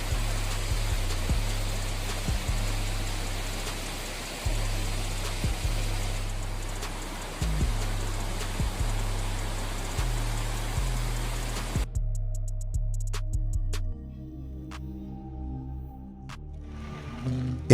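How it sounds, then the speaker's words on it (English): Heavy rain pours during a storm flood, a dense steady hiss with a repeating low thumping underneath, cutting abruptly to a quieter, sparser wash of water partway through. "The rain poured down, the wind howled through the streets"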